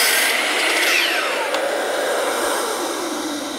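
A saw blade makes a quick cut through wood, a loud steady whine that holds evenly for a few seconds and slowly fades.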